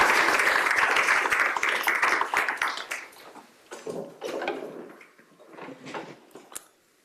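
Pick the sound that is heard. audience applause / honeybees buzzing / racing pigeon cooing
audience applause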